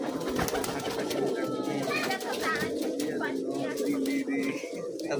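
Giribaz pigeons from Rajshahi cooing among a flock, soft repeated coos and bird calls mixed with ongoing conversation between men nearby.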